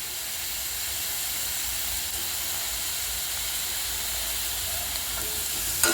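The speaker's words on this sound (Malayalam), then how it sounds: "അതിലേക്ക് ടൊമാറ്റോയും ക്യാപ്സിക്കവും കൂടെ ഇട്ട് നമുക്ക് വഴറ്റാം." Tomato and capsicum sauté in a pan for a cauliflower and capsicum kurma, giving a steady, loud sizzle and hiss that runs unbroken with no talk.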